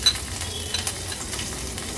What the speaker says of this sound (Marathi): आता फोडणीला आपण राई घालूया, नंतर जिरं, कढीपत्त्याची पानं, आलं, लसूण, मिरचीचा क्रश